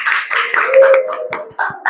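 Classroom applause during a school lesson: a short burst of hand clapping from students with voices mixed in, fairly loud and close, ending in a few scattered claps.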